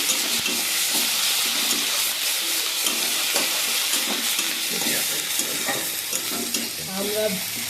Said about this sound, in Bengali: লঙ্কার গুঁড়ো দিয়ে দিলাম। ভালো করে কষিয়ে নিলাম।